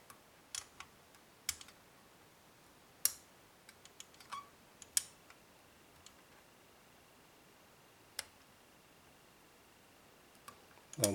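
Sparse, sharp metallic clicks from picking a CISA 3+3 lever lock, single isolated ticks spaced irregularly across a quiet background, with a slightly louder cluster at the end.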